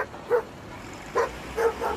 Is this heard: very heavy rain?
no